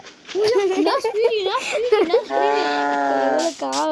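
A cow lets out a long, loud moo close by, after a stretch of excited voices and laughter.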